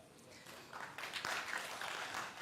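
Audience applause at a televised talk-show debate, rising after a quiet start into a dense, steady patter that stays at a moderate distance.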